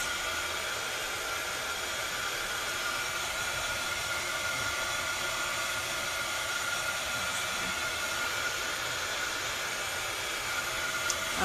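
Blow dryer drying a mixed media paper layout, a steady broadband whoosh running continuously at moderate level with no pauses.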